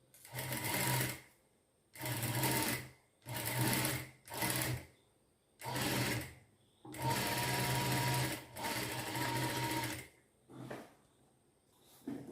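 A sewing machine stitches a folded blouse front piece in a series of loud, close whirring runs of one to two seconds, separated by short pauses, with no voice over it.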